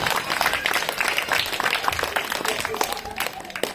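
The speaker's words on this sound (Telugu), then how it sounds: "గట్టిగా చప్పట్లు కొట్టండి." Audience clapping at a Christmas sermon gathering, a dense, steady wash of applause that carries on throughout, with a voice faintly present over it.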